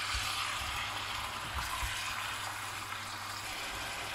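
Beef sears in a pan for plov, a quiet, steady sizzle with soft bubbling and a few dull knocks, no talking.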